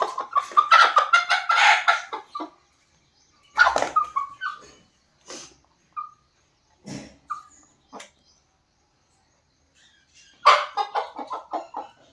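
Country (desi) hens, egg-laying chickens, clucking and squawking in short bursts, loud and close, with quiet gaps between calls and a louder flurry at the start and end.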